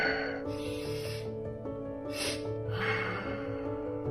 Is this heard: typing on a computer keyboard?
no